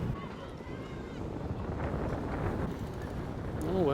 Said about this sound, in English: the wind is sweeping across the course